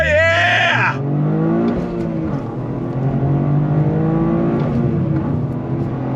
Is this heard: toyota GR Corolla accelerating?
yes